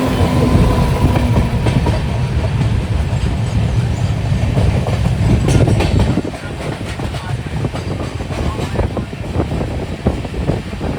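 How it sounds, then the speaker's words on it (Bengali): A passenger train leaving Mumbai on the Konkan line rumbles steadily along the rails with a loud, continuous roar and clattering, the sound shifting slightly partway through, no voices. "মুম্বাই থেকে আমাদের ট্রেন এবার ছেড়ে দিল"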